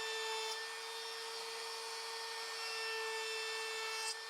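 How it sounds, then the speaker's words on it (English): A wooden piece for a Lego display base is sanded with a steady, even whir that holds unchanged from start to finish. "I'm going to round over and sand it first before I put it together"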